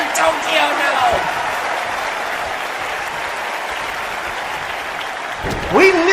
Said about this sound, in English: This crowd is going ballistic here in the Tokyo Dome.